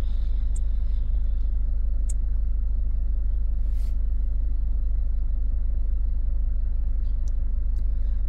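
A Citroën C4 with a starter fault idles after being started, a steady, loud, low engine drone holding constant with a few faint ticks and a brief hiss, and no talking.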